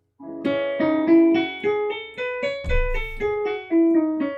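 A melodic instrument plays a stepwise minor scale, about a dozen evenly spaced notes, clear and close with no voices.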